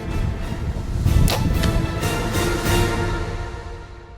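A bow shot at a blesbok ram outdoors: a short whoosh and thud around the middle, with a few sharp transients over a steady, noisy background.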